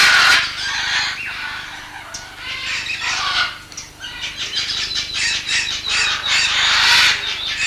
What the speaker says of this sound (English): At the moment there are palm cockatoos in here.